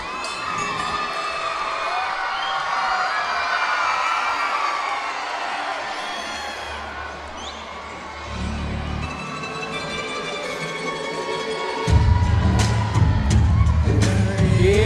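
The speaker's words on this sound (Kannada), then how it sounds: "ಜೋರಾದ ಚಪ್ಪಾಳೆಯ ಮೂಲಕ ಇವರನ್ನು ವೇದಿಕೆಗೆ ಆಹ್ವಾನಿಸಬೇಕಾಗಿ ಕೇಳಿಕೊಳ್ಳುತ್ತೇನೆ." A school crowd at a Children's Day celebration cheering and shouting as teachers come to the stage, a dense, lively din of children's voices that swells louder toward the end.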